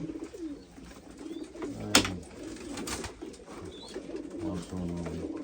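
Pigeons cooing in a coop in Derik, Mardin, with soft repeated low coos and a brief sharp knock partway through, moderately close and without talk.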